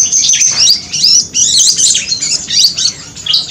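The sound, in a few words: grey-headed babbler (burung tepus kepala abu) chirping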